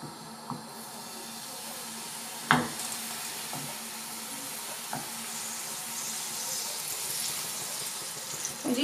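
Oil hisses softly in a pan over medium heat for pancakes, a steady sizzle broken by a few faint clinks and taps.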